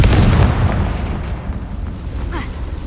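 A Confringo spell explodes in the video game Hogwarts Legacy, a loud close boom that decays into a rumbling tail, followed by faint sparkling effects.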